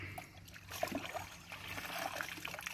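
Water trickles and splashes steadily while a cleaned catfish is rinsed out by hand, a close, continuous wet wash with small splatters.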